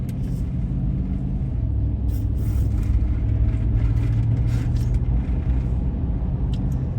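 A pickup truck with a 6.0 engine driving at night in Fort Myers, Florida, giving a steady low rumble and road noise from inside the cab, with slight swells in engine drone.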